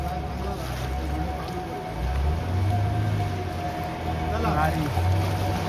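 A boat motors across the open sea near rocky islets, its engine giving a continuous low drone under wind and water rush, with a voice talking over it.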